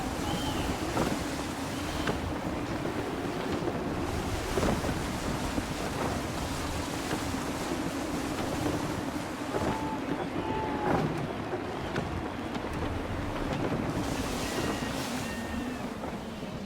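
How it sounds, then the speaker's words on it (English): Sailing ship at sea in Assassin's Creed 3, with steady rushing wind and wash of ocean waves against the hull. A constant dense roar with a few faint creaks and tones, with no speech. "Gusty winds can be difficult to manage."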